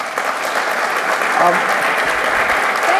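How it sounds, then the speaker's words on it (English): Audience applause in a university auditorium during a conversation event, steady dense clapping from a large crowd filling the whole stretch at constant loudness, with a few faint voices mixed in. "I love this applause."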